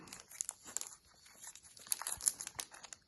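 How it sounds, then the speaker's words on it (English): A plastic cellophane sleeve on vintage baseball cards is peeled open and handled close up, giving a run of crisp crinkles, rustles and small tearing snaps in irregular bursts, no talk. "opening this plastic cellophane sleeve"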